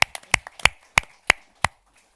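A small audience at a forum gives scattered, uneven claps, about eight sharp separate slaps over two seconds that thin out and stop rather than build into full applause.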